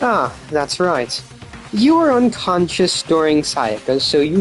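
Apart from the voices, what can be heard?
No distinct noise like a dog, phone or traffic.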